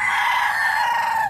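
A hen crows or calls loudly and steadily for just over a second, close and clear with no talk over it, its strong tonal cry holding level before cutting off abruptly.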